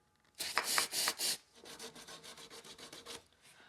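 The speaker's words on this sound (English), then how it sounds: "So the trick is just to use a little sanding block." A 120 grit sanding block rubbed across a dado blade, first in a few loud, long rasping strokes, then a quicker series of lighter, shorter scrubbing passes, close up with no talk.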